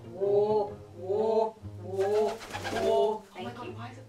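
A person imitates pigeon cooing with a voice, giving about four soft, rolling throaty coos in a steady rhythm, close and moderately loud.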